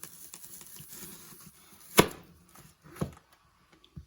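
A knife cuts through a tough onion on a board, giving a few sharp, separate chops with quiet pauses between them, close and clear, and no one speaking.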